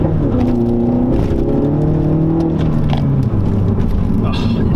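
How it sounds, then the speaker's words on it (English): A MINI Challenge 210 with a 2-litre turbo engine and JCW Pro exhaust, in sport mode with the exhaust open, pulls away from a junction: a loud, close engine drone with rising revs and a steady exhaust rumble throughout. "I've got sport mode on, exhaust open."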